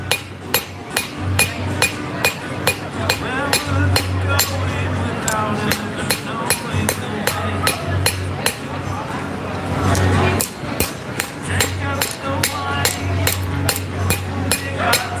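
Steady, rhythmic hammer blows ring out on hot steel as a knife is forged with a cross peen hammer at an outdoor farmers market, roughly two strikes per second, with crowd chatter and a low hum underneath.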